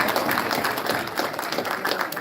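A summit audience in Atlanta applauds in a steady, dense wash of clapping that holds evenly for a couple of seconds, moderately loud and close.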